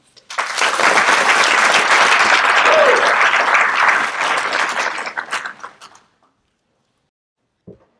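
An audience welcomes lecturer Paula Moya at an ethics, law and society talk with sustained applause, a dense wash of clapping that runs about five seconds, thins out and stops, followed by silence and one faint knock near the end.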